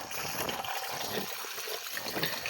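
Water pours out of a pot outdoors in a brief, gushing splash that rises and falls unevenly, fairly faint overall.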